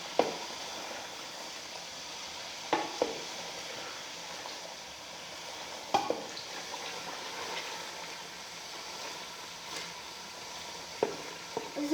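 Chicken pieces frying in a pan, a steady close sizzle with occasional clinks and scrapes of stirring at irregular intervals.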